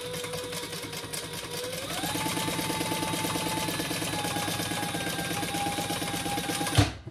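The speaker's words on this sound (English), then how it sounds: "we're going to sew the long edges at the seam allowance in the pattern" A sewing machine runs steadily along the long edges of fabric bottle sleeves, its rapid needle chatter holding an even rhythm with a brief pitch rise near the start before stopping abruptly at the end.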